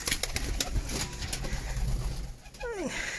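Pigeons cooing inside a coop where eggs are laid, soft repeated coos close by with rustling and faint movement, ending in a brief sweeping call near the end.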